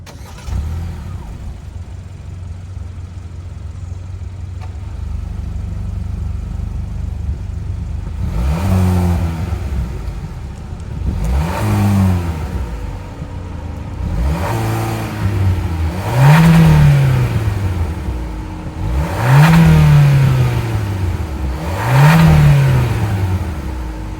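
A 2024 Hyundai Kona N-Line's 1.6-liter turbo four-cylinder idles, then revs repeatedly in rising and falling bursts, roughly six throttle blips with a whooshing, turbo-like character, close by.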